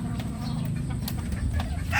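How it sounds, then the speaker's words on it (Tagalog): Large white chickens cluck softly and intermittently among a flock, with low, steady farmyard rumble running underneath. "Puti, malalaking manok."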